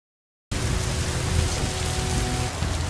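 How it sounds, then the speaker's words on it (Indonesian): Heavy rain pours down in a dense, steady roar that begins suddenly after a brief silence and stays loud throughout, with no speech. "sepulang di sana hujan besar turun yang mengakibatkan Citarum banjir"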